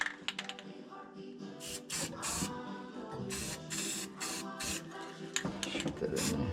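Rust converter sprays from an aerosol can onto car body mounts in a series of short hissing bursts, some quick and close together, others longer, with faint clatter and handling noise between.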